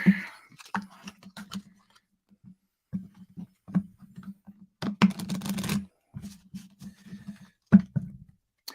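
Doctor Who Fluxx cards are shuffled together in slices on a table, producing irregular soft taps and brief riffling rustles close by, with no talk.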